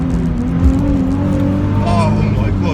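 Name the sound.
Nissan 350z with Miltek exhaust driving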